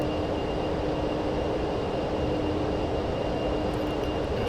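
Avro Vulcan B Mk.2 jet bomber climbing out after takeoff in Microsoft Flight Simulator, a steady, dense engine roar with a faint high whine, continuous and even throughout.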